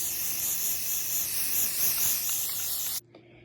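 Steady, loud aerosol spray hiss as satin-finish paint is sprayed onto a fabric cloak for a Harry Potter costume, continuous for about three seconds and then cutting off abruptly into near silence.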